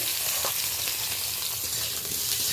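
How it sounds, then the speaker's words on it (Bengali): Papaya pieces stirred and fried in a little oil for dal, a loud, continuous close-up sizzle with faint scraping of the stirring utensil underneath. "পেঁপেটা হালকা করে একটু নাড়াচাড়া করে নিচ্ছি"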